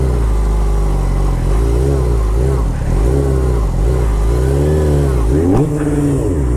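A car engine revs loudly and continuously during a spin on a lot, its pitch rising and falling in repeated surges before a sharp final climb.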